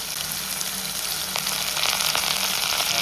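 Curry leaves fry in groundnut oil, giving a dense, bright crackling sizzle that holds steady and grows slightly louder toward the end, with no talking.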